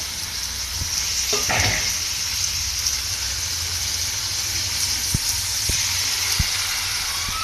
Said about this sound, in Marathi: आपण आहे ना हे ताटात घेऊन पाणी टाकणार आहे आता त्याला